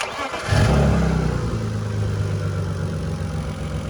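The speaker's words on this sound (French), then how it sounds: "vas-y, si tu veux nous faire un petit démarrage" A BMW E36 drift car's engine cranks briefly and fires, then settles into a loud, rough idle with a steady rumble, heard up close and alone.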